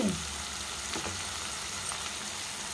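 Ginger-garlic paste frying in a pan for a raw mango and prawn curry, a steady close sizzle that holds even throughout, with a few faint stirring scrapes and no voices.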